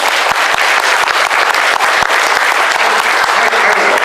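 Loud, sustained audience applause fills the room at a comedy or convention stage appearance, a dense steady wash of many hands clapping with scattered sharper claps, continuous and close throughout.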